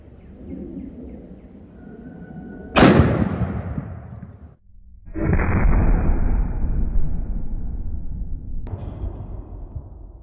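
A .500 Bushwhacker fires a 520-grain bullet through a squash: one sharp, very loud blast that rolls off into a decaying echo, followed later by a sustained low rumble outdoors.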